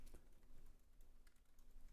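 Brisk, uneven clatter of keys on a computer keyboard while code is typed, close and fairly quiet, with short bursts and pauses between keystrokes.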